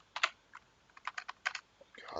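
A short burst of keyboard typing, several quick clicks in uneven bursts, fairly close and moderately quiet.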